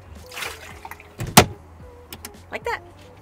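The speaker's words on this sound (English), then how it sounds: "Then you fold it back up." A fold-down sink in a Winnebago Travato camper van is swung back up into place. There is a sharp, close clack of the hinged unit shutting, followed by a few lighter knocks and rattles.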